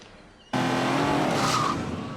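After a quiet moment, a turbocharged four-wheel-drive Subaru Impreza launches hard on a test track, its engine bursting suddenly to full loud roar with brief tyre squeal.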